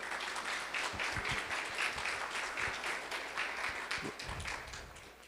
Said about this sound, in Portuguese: Uma salva de palmas para o meu amigo